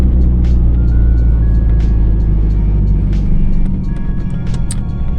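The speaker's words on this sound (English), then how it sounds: "and give this car some fucking welly" A Nissan Pulsar GTiR on the M4 motorway, its engine droning loudly and steadily from inside the car with heavy low rumble and road noise, no talk.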